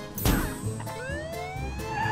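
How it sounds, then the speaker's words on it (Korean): A short burst of rising and falling police car siren wails, fairly close and loud, with a thump at the start and a rumbling engine beneath, in a children's Halloween song. "경찰차를 부르자."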